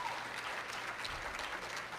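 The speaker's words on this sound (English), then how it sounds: "that round of applause is for all of us here in this room" An audience at a talk on maternity care and breastfeeding support claps steadily, a dense, even patter of applause with no voices over it.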